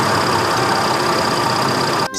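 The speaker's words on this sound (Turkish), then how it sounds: "Kamyon çalışırken böyle ses çıkarır." A steady, loud engine drone runs continuously with a low rumble and a faint high whine, then briefly cuts at the end.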